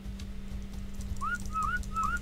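A whistle command in ARK: Survival Evolved sounds as three short rising-falling whistle chirps in quick succession over a steady low hum and game background noise.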